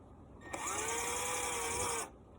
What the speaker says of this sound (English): and I'm going to drill a hole through.